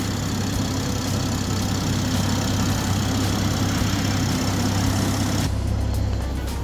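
A 2020 BMW 740i with about 8,100 km on it idles with the engine bay open, giving a steady, continuous, close hum with low rumble and no talking.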